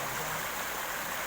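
Steady rushing flow of a river at the water's edge in the late afternoon, a constant broadband wash heard up close with no other sounds.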